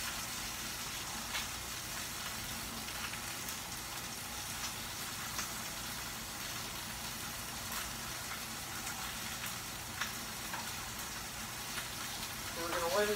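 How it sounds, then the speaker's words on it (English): Mushrooms sauté in a hot pan with a steady, close, even sizzle that carries on throughout, rising slightly at the very end. "And saute the mushrooms first"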